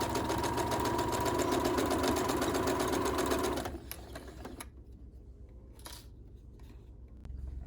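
A sewing machine back stitches a fabric face mask, its motor running in a steady loud rapid whir for several seconds before stopping. Softer handling noises follow.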